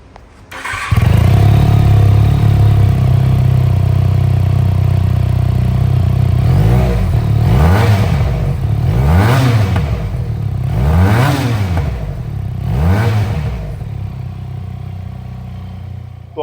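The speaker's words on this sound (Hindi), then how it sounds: "चलिए आइए मैं आपको सुनाता हूँ इसका एग्जॉस्ट साउंड।" A Benelli TNT 300 motorcycle engine starts and idles with a deep exhaust note, then is revved in several sharp, rising bursts, loud and close, with no talk.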